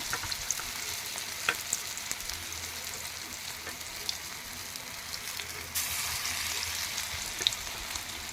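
Masoor dal fritters fry in hot oil in a wok, giving a soft, continuous crackling sizzle with scattered pops. The frying grows noticeably louder partway through as more batter goes in.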